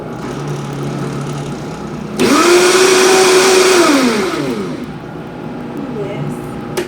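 A kitchen blender whirs loudly for about two seconds, crushing pineapple with chili peppers for a Thai sauce, its motor pitch rising then sagging before cutting off into quiet room noise.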